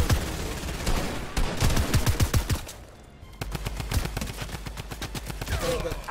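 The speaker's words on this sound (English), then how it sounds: "Oh, someone's shooting me." Rapid gunfire from Fortnite firefights aimed at the player, loud bursts of automatic shots in quick volleys, a short lull, then more steady rattling fire close by.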